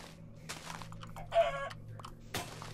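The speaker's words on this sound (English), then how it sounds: "Ooh, chickens. Nice." Minecraft chickens cluck in short, separate bursts, several brief calls spread across a few seconds over a low background hum.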